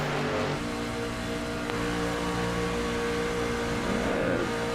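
A racing truck engine on a superspeedway drones loud and steady throughout, revving at full throttle with brief lifts off the throttle, heard from on board.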